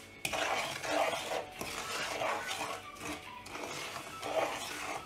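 Urad dal powder mixed into ghee in a pan for ladoo, with repeated scraping and stirring of a spoon against the pan and faint clinks, fairly quiet and close.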